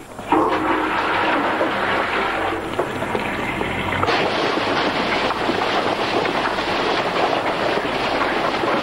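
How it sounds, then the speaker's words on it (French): A toilet flushes with a loud, rushing surge of water that roars steadily for several seconds, close by. "Allez, tire la chasse, tire"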